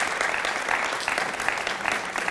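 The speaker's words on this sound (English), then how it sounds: "So let's have a big round of applause again for Nicky Morgan" Audience applauding Nicky Morgan at a school talk: dense, steady clapping from a large crowd, sustained and fairly loud throughout.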